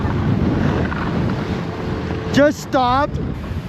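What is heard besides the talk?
strong wind on a ski slope during a snowstorm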